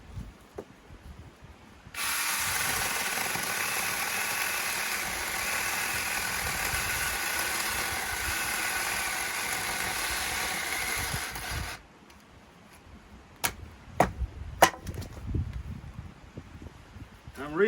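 A chainsaw cutting firewood outdoors at a bothy runs loud and steady for about ten seconds, then stops, leaving scattered knocks and clatter.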